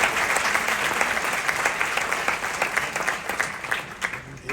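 A large cinema audience at a masterclass gives a dense round of applause that starts at full strength and thins into separate claps toward the end.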